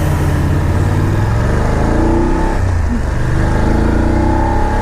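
A BMW F850GSA Low Chassis motorcycle engine accelerates loudly and close, its throaty tone climbing through the revs over heavy rushing wind noise, with no voices.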